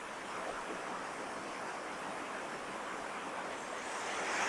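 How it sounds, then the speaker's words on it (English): Powerful cascades of the Electric Brook, the largest falls on a hiking trail, roar as a steady, dense rush of water close by, unbroken and with no voices. "I'm hoping you can hear my voice above these very powerful waters."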